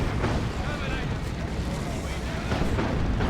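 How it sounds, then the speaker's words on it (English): Orbital bombardment explosions in the strategy game Dawn of War 2 form a dense, continuous rumble of booms and blasts that stays loud throughout, with no clear gaps between impacts. "there's a Orbital Bombardment now"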